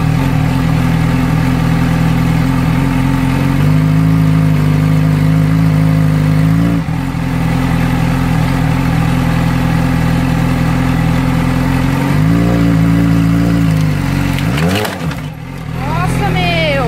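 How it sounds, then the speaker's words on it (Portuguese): A motorcycle engine idles loudly and steadily up close, its pitch rising and falling as it is revved a few times, with a brief sharp rising sweep near the end. "Acelerar a moto um pouco"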